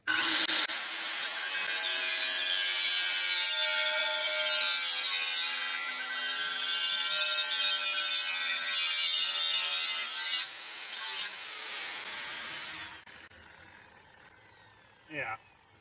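A power tool with a cutting disc grinds and saws loudly for around ten seconds, then winds down to a lower whir while a voice speaks briefly near the end.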